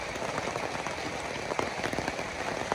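Rain falling steadily on surfaces outdoors, a dense, even patter of drops with a few louder taps, fairly quiet and continuous with no voices.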